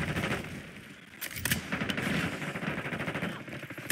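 Multiplayer gunfire in the Call of Duty: Black Ops 6 video game: rapid automatic bursts and sharp single shots crackling steadily, fairly loud, with a brief lull before the shooting resumes.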